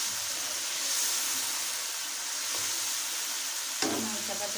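Chicken frying in masala gives a constant soft sizzle and hiss in the pan, close and even, with a sharp clink of the spoon near the end.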